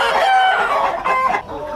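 Tiger breed chickens on a farm cluck and squawk loudly and close up in a dense overlapping chorus, with a few rising calls like crowing, and no one talking.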